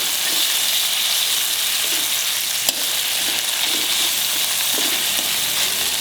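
Ginger garlic paste fries in a pan with a steady, close sizzle and hiss, while faint stirring scrapes surface now and then and a single sharp tap lands midway.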